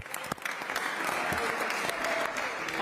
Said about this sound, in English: give security a round of applause